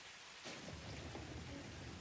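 Rain with rumbling thunder in the Satisfactory video game, a dense steady hiss of falling rain under a low, soft rolling rumble, fairly faint and with no talk.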